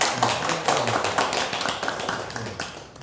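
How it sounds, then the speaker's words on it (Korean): A church congregation claps together during an Easter service, a dense patter of hand claps that rises and falls, with a voice faintly audible underneath. "다시 한번 하나님께 영광의 박수"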